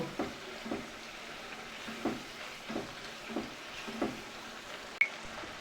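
Onion frying with ginger garlic paste sizzles softly in a pan while a spoon stirs in a steady rhythm, scraping about once a second, with a sharp clink near the end.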